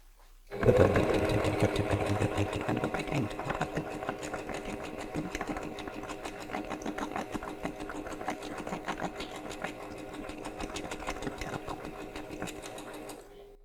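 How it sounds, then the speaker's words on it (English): A sewing machine stitches dark brown fabric along the bottoms of attic-window quilt squares, starting with a clunk and then running in a steady, rapid mechanical whir nearby before stopping at the end. "I'm going to stitch the dark brown along all the bottoms of the squares"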